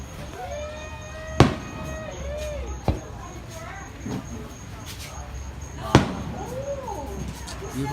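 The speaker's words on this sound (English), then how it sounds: "Beautiful fireworks." Fireworks burst over a beach at night during a crowd event, sharp booms landing at irregular intervals, three standing out clearly, under a steady crowd hum and people talking nearby.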